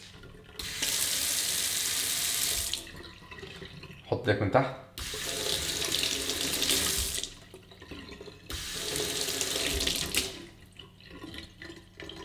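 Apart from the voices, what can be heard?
sensor water faucet running into sink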